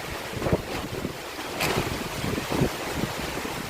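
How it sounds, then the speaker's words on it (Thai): Strong storm wind gusting around a house, buffeting the microphone with steady roaring rushes and a sharper gust midway, alone without talk. "โอ้ลมอย่างแรงเลยครับต้นทุเรียนเอียงเลยตาย"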